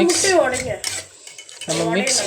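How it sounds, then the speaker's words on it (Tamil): Egg rice being stirred in a pan on a low simmer after beaten egg was poured in, with a metal spoon scraping and clinking in repeated bursts and a brief pause midway. "இப்போ நான் முட்டையை நல்லா உடச்சி ஊற்றிட்டேன். மறுபடியும் கிண்டுறேன்."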